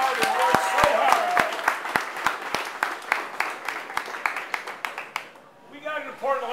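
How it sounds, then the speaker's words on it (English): At a Democratic political gathering, a crowd's applause mixes with sharp, close individual claps, fairly loud and steady for several seconds, before a voice begins speaking. "Give them another great round of applause."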